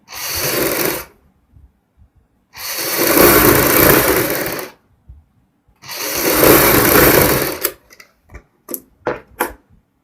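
A sewing machine stitches a kurti in three long, loud whirring runs, each a couple of seconds, separated by silences, followed by a few short clicks and bursts as the fabric is handled.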